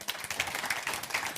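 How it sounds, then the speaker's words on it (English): A conference audience at a digital talent summit claps to welcome George Gilder onto the stage, giving fairly faint, even applause. "a big round of applause for Mr."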